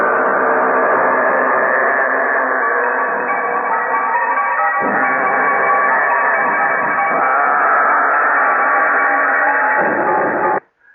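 Dense, steady roar from a Pratt & Whitney aircraft engine used in a recording of George Antheil's music, heard through a narrow, radio-like band. The loud drone holds constant for about ten seconds, then cuts off abruptly.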